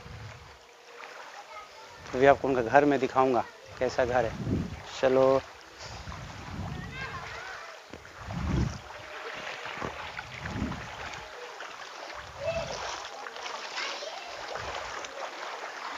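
Footsteps slosh through floodwater outside Jayaprakash Narayan's old family house, a run of splashy wading strides close to the microphone, with wind noise and someone talking over them.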